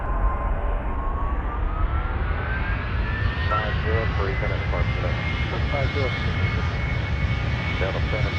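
Boeing 767 jet engines in the game Airline Commander hum steadily through a takeoff roll, with a rising whine climbing gradually, while radio-style voices talk over the constant engine roar.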